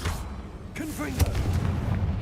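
A Confringo spell blast in Hogwarts Legacy: a shouted voice followed by a sharp explosive boom and rumbling aftermath, loud and close.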